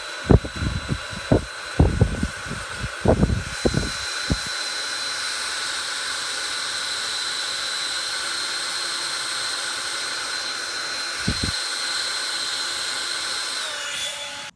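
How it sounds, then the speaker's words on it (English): A first edition Ego 56 volt cordless leaf blower runs in turbo mode, a loud, steady high-pitched whine and rushing hiss that holds for about fourteen seconds, preceded by several sharp knocks and clatters at the start. "the first up is the first edition Ego 56 volt blower."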